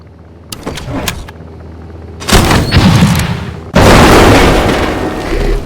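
Game car in I Expect You to Die driving off a plane: engine and rumbling vehicle noise mixed with loud booming bursts, with two heavy surges in the second half and no talking.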